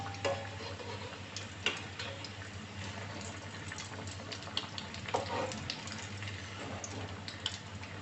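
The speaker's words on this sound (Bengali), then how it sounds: "চুলার জালটা মিডিয়ামে রেখে কাবাবগুলো ভাজতে হবে" Chicken jali kebabs fry in a pan on a stove at medium heat, giving a steady close sizzle with scattered small ticks and pops throughout, no voices.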